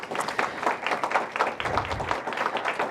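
A crowd at a city funding announcement applauds a District of Columbia at-large councilmember, a brief burst of dense, rapid hand clapping at moderate volume.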